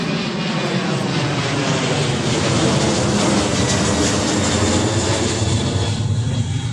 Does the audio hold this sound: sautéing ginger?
no